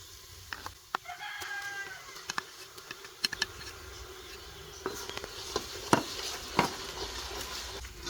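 Garlic paste for Ambur biryani sautéing in a pan, with a soft sizzle broken by intermittent spoon taps and scrapes, while a rooster crows faintly in the background near the start.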